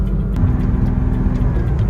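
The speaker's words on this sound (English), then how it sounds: "the car just sounds so good, just rolling through the gears" A Porsche Cayman S 987.1 engine rumbles deep and steady up close while shifting through gears, a throaty low drone running continuously.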